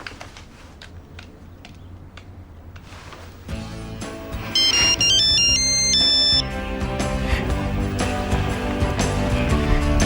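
A telephone rings after a number is dialed: a few faint clicks, then a loud electronic ringtone melody rising over a building musical background, no talk.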